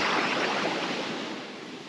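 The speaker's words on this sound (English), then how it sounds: "but there's a bit of surf." Small surf washes in at a Sydney beach as a steady, broad rushing hiss that fades slightly, with no voices.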